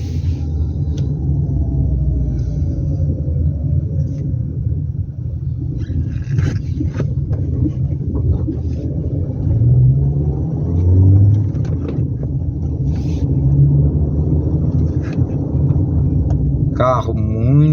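A 2014 VW Gol 1.6 four-cylinder engine idles steadily with a low, continuous rumble, heard close up from inside the car while someone talks over it throughout.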